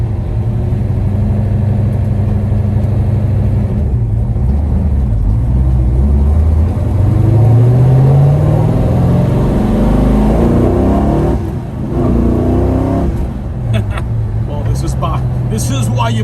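A 1968 Dodge Charger R/T with a 426 HEMI V8 revs up at part throttle, its engine note rising steadily then dropping back, loud and close from inside the car, with people talking over it.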